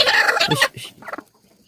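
Chickens cluck loudly and close by on a village farm where eggs are hatching, a short burst of clucks followed by quieter, softer clucking.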